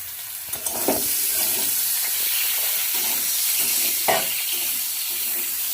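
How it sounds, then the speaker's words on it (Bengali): Cauliflower and potatoes fry together in a pan with a steady, close sizzle, broken by a few soft stirring scrapes and clinks near the start and again toward the end. No one speaks. "লাল লাল করে ফুলকপিগুলো ভেজে নিচ্ছি আলুর সঙ্গে"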